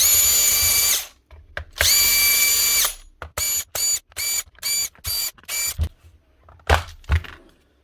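A power driver whirs in two long bursts, then a rapid run of short, stuttering spins as screws back out of a hammer drill's casing, close and loud.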